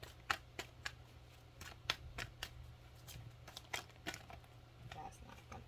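A deck of tarot cards being shuffled, a series of quiet, sharp riffling snaps and slaps in uneven bursts over a low background hum.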